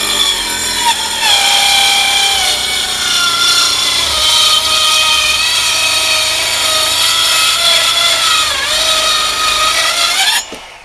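A trim saw cuts steadily through pressure-treated lumber while framing a shed wall, a loud continuous whining rasp of the blade biting wood lasting about ten seconds before it stops abruptly.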